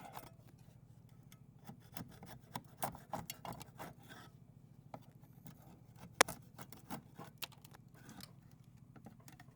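Hand scraper rasping old, century-built-up layers of paint off a surface, with quiet, irregular scratchy strokes and a few sharper scrapes over a low steady hum.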